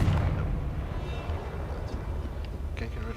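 A rumbling spell explosion from the video game Hogwarts Legacy, a dense sustained roar with debris-like crackles that fade slightly toward the end.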